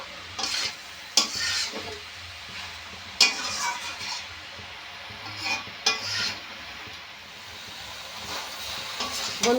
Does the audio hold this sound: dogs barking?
no